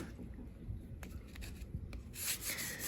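A silver ring's sides are sanded by hand with 600-grit abrasive, giving soft, quiet rubbing strokes with brief scratchy bursts, faint and close, with no voices.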